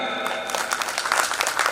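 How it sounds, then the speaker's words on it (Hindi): An audience at a ceremony honouring guests breaks into applause, a dense burst of clapping that swells and stays lively throughout, close and fairly loud. "एक जोरदार तालियां"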